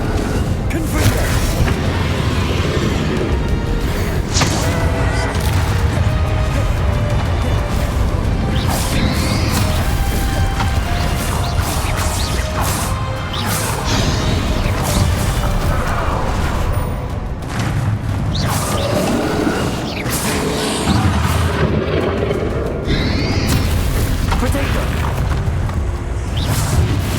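Confringo fire-spell blasts in a Hogwarts Legacy boss battle in the final repository, repeated heavy booms and crashes with whooshes, continuous and loud throughout.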